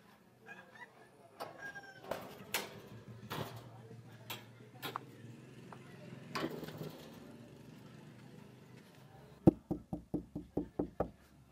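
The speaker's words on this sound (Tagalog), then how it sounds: "Kaso, sarado yung pintuan eh. Sige, try kong kumatok." A closed door is knocked on in a quick run of about eight sharp raps near the end, after scattered clicks, thumps and a faint engine-like hum.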